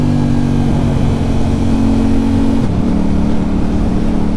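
A Yamaha R7 sport motorcycle engine running loud and close, a steady buzzing drone with a slight dip in pitch partway through.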